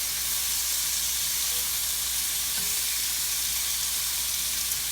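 Chicken pieces for harissa chicken browning in a pan give a steady, even sizzle and hiss that runs unbroken throughout, with a faint clink near the middle and no voices.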